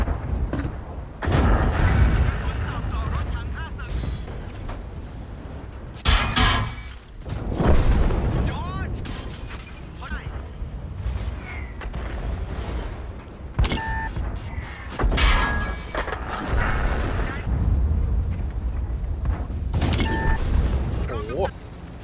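A KV-2 tank in a video game fires high-explosive shells, with several heavy booming cannon shots spread across the stretch among engine and battle noise while players talk excitedly over it.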